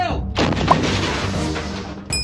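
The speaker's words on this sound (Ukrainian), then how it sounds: "Постріл!" Ukrainian artillerymen fire one shot from a field gun: a single loud, close boom with a long rumbling decay.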